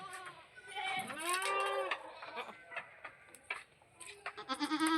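A goat on a farm bleats loudly and close several times, drawn-out wavering calls, with a person talking in between and faint ticking in the background.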